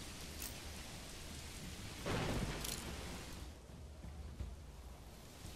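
Steady rain and a loud burst of thunder from the Manor Lords medieval strategy game during a battle, the rain hissing continuously throughout while the thunderclap swells midway and fades.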